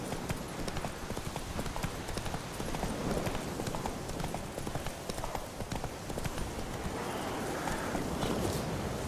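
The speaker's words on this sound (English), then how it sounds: "Whoa there, Roach." Horse hooves from The Witcher 3 video game pound in a fast, steady galloping clip-clop rhythm, loud and continuous throughout.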